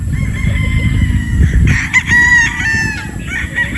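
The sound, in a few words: Sweater gamefowl rooster crowing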